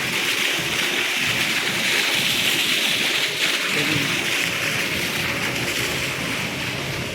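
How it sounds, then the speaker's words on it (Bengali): Heavy rainwater flooding a street in Jeddah, Saudi Arabia, at night, heard as a steady, loud rushing wash of water with broadband hiss that holds unbroken from start to finish, with no voices. "আমাদের বাসার রাস্তার সামনে পানি জমে গেছে"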